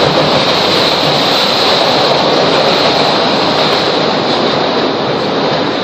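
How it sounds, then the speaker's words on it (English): A loud, steady rumbling roar with hiss as a train passes close by apartments in a city, continuous throughout with no voices. "Oh, that train again."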